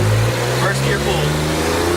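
Straight-piped BMW E36 engine swapped into a Mini, accelerating hard in first gear with a loud, steady, raspy exhaust roar that climbs in pitch.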